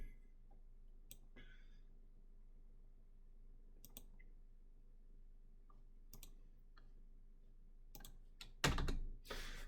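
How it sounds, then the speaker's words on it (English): Someone types on a computer keyboard in a quiet room, scattered clicks and short bursts of keystrokes at a modest pace, close and faint, ending in a louder clatter of keys. "we can kind of keep typing at the very least"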